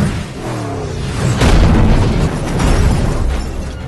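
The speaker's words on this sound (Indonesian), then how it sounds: "Batman muncul dari tengah-tengah ledakan dan menabrak mobil Penguin sampai berguling beberapa kali." A loud cinematic explosion in the film The Batman booms and rumbles as Batman drives out of it, its roar swelling and lingering for a few seconds without any speech.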